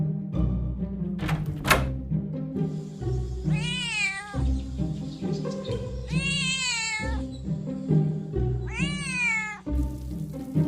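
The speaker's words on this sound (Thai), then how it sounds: "อะไรกัน แมวหรอกเหรอเนี่ย" Three drawn-out cat meows in the Sakura School Simulator video game, rising and falling in pitch and evenly spaced over steady background music, with a couple of sharp clicks near the start.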